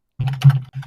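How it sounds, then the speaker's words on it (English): Someone typing on a computer keyboard while chatting on Discord, a quick close burst of clacking key presses over a steady low hum, with no speech. "typing on his Red Dead Redemption 2 Discord right now"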